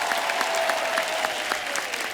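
Studio audience at a Hindi comedy talk show breaks into strong, continuous applause for a guest singer, a dense even patter of many hands with no voices over it.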